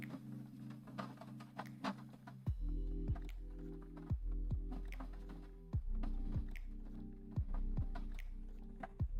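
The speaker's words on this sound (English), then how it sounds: "The printer's just moving so fast." A Bambu Lab X1C 3D printer runs nearby with a steady motor hum, broken by a rhythmic series of sharp periodic ticks and clunks as the head moves quickly, loud and continuous with no talk.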